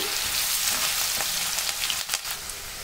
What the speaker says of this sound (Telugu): కొద్దిగా పసుపు వేసుకొని ఆనియన్స్ని 2 మినిట్స్ మగ్గించుకోండి